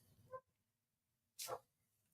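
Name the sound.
dog barking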